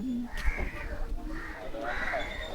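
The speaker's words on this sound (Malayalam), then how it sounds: "അയ്യോ കാക്ക ഉണ്ടല്ലോ" A crow caws close by outdoors at Kolothum Kadavu in Vaikom, giving a few harsh calls spread across a couple of seconds over soft background murmur and voices.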